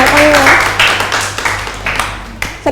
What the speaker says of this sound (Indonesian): Berikan tepuk tangan untuk kelompok 3 dan berikan tepuk tangan untuk kalian semua kalau sudah bisa mengerjakannya.